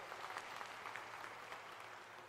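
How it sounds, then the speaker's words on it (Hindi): Crowd applause at an outdoor election campaign public meeting in Seoni, Madhya Pradesh, a steady dense wash of clapping hands sustained and fairly distant throughout, with no talk over it. "जरा जोरदार तालियों से उनका स्वागत करो सब मिलके"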